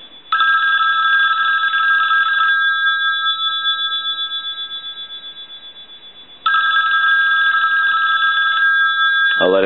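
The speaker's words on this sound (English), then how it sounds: "I want to hold the hook switch down so we can ring the telephone" A Northern Telecom rotary desk telephone under repair rings with its mechanical bell in two loud, sustained bursts separated by a gap in which the ring decays, then a brief click at the end.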